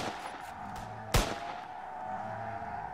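A single sharp gunshot cracks out in a Roblox survival island game, loud and close, over a steady low background drone of game ambience.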